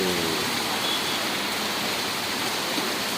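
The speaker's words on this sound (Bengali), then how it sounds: "আজকে খুবই ভারী বর্ষণ, এটার সঙ্গে কোনো বিকল্প নেই, অনেক জোরে জোরে বৃষ্টি হচ্ছে।" Heavy rain pours steadily in a dense, continuous hiss that stays loud and even throughout.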